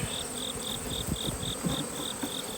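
Honey bees swarm around a robbing box, a steady close buzzing drone with a pulsing, evenly repeating whine layered over it and faint rustling underneath.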